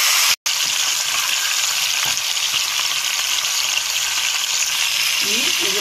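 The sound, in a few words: chicken shallow frying in hot oil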